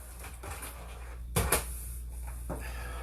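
A keyboard is slid into a storage pocket on an Arcade1Up riser, giving a short rubbing scrape and a couple of muffled wooden knocks close by in a quiet room.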